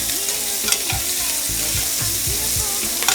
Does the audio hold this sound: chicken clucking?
no